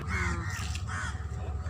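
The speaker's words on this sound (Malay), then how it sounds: "Kat sini burung gagak banyak." Several crows caw at moderate distance by the seaside over a steady low background rumble, the harsh calls coming in two short bursts.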